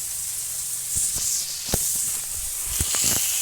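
Onions fry in hot oil in a village kitchen, a constant soft hiss and sizzle broken by a few sharp taps and scrapes of a utensil.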